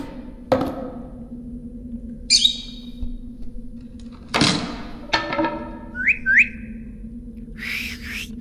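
Birds whistle and chirp in the video game Virginia, a few short separate calls and clicks heard against a faint steady ambient hum, with no speech.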